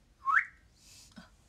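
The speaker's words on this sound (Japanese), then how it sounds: "口笛。" A short, faint mouth whistle rising in pitch, brief and close, followed by soft breathy noise.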